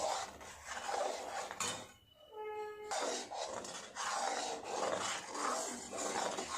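Rice paste and milk stirred nonstop in a pot for mango phirni: a continuous close scraping of spoon against metal with one short pause, moderately quiet.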